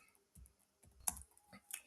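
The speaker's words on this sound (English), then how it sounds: "press the enter key of your computer keyboard" Faint, close keystrokes on a computer keyboard as a folder name is typed, a few soft irregular clicks with short gaps between them.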